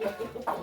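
A medium-sized hen gives a short series of close, clear clucks, a couple of quick notes rising to a louder final cluck.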